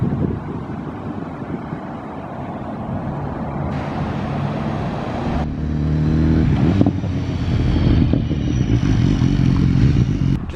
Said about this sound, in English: Just noticed this Triumph rolling in.